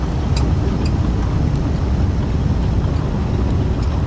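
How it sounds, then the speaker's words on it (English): Embraer jet thrust reversers roaring on landing in X-Plane 11, a steady, loud broadband rumble holding at constant level throughout with no speech. "we'll use some reversers"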